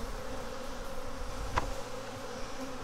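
Honey bees buzz steadily around an open hive during a split, a dense continuous hum close by with one brief sharper knock partway through.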